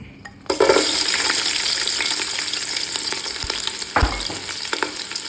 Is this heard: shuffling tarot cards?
no